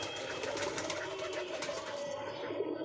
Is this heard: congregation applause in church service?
no